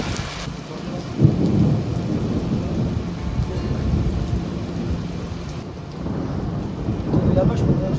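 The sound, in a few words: thunderstorm with thunder claps and rain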